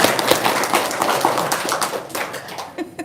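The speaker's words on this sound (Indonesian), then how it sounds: "Tepuk tangan dong." A short burst of hand clapping, quick sharp claps in an indoor room, close and fairly loud, easing off toward the end with a brief sound of voices.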